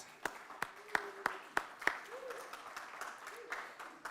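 Scattered, sparse handclaps from a conference audience, about eight distinct claps spaced evenly and fairly faint, with a soft background hum and brief tonal sounds between them.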